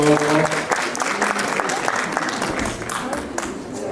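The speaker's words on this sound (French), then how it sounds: "Vous pouvez l'applaudir très très fort." Applause from the audience at a cat show in Gien follows the presentation of a three-month-old Maine Coon kitten, a steady clapping crowd with a voice talking over it throughout.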